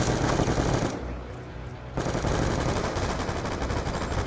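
Dense automatic gunfire in the video game Call of Duty Black Ops 2 during a Team Deathmatch, loud rapid bursts that stop for about a second and then resume at full intensity.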